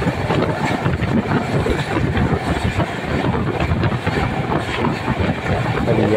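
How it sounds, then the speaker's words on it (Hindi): Bilaspur Rajdhani Express train passing close by, a loud, continuous rumble of wheels and carriages with rhythmic clatter over rail joints throughout. "हमारे पीछे जो है ना बिलासपुर राजधानी आ रही है"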